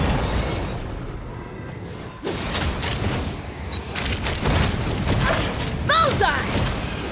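Heavy gunfire from Mavuika's aerial support in the video game Genshin Impact: a dense, sustained barrage of booming shots and swooshes that rolls on loudly and continuously without a break.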